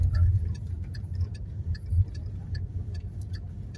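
A car's turn signal ticks in an even, steady rhythm inside an automatic-transmission car on a driving exam route, clear and close over the low hum of the engine.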